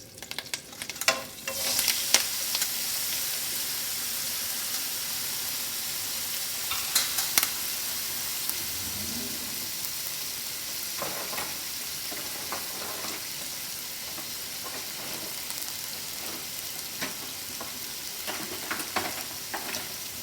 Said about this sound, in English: I am adding some hing and my vegetables.